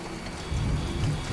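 Rain in the video game Death Stranding: a dense, steady hiss of falling rain with low rumbling undertones, loud and continuous throughout, with no voices.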